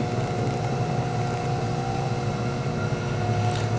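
An electric pottery wheel spins steadily while clay is opened into a large soup bowl, a continuous close motor hum with a faint whine and no speech.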